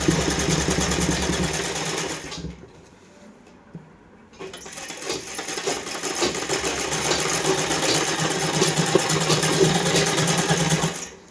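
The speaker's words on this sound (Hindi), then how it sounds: "इसी निशान पर हम सिलाई लगाते जाएंगे" A sewing machine stitching a salwar seam, a loud close steady whirring run that stops briefly for a couple of seconds and then resumes for a long continuous stretch.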